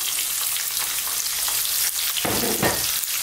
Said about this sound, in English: we're going to drop in our onions